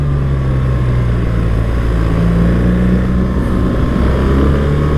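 BMW R 1300 GS boxer-twin motorcycle engine pulling hard near its power band on a mountain road, a steady loud drone with strong low harmonics and wind rush throughout, no talk.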